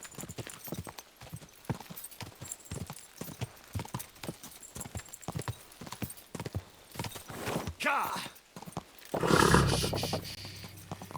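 Rapid clip-clop of a horse's hooves galloping steadily throughout in the video game Kingdom Come: Deliverance II, with a short shout and a burst of louder noise near the end.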